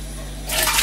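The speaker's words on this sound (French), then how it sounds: "Une fois que vous avez coupé le tofu et les wakame, vous les rajoutez dans les 1 litre d'eau." Cut tofu and wakame dropped into a pot holding a litre of water make a sudden close splash that starts halfway through, after a quiet lead-in.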